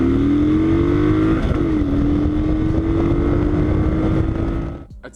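A Kawasaki Vulcan 900 motorcycle accelerates hard from the rider's seat, engine note climbing through a gear change amid heavy wind rush, then dropping away at the end, no speech.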